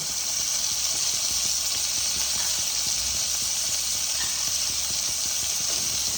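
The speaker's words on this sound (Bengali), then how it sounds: "পটলগুলোকে আমি লাল লাল করে ভেজে নেব।" Pointed gourds (potol) frying in hot oil, giving a loud, steady hiss and sizzle close up that holds unbroken for several seconds with no talking.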